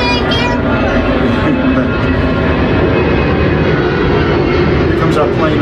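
A propeller airplane roars past as a sound effect, a loud, steady, dense engine drone filling the whole stretch without letup.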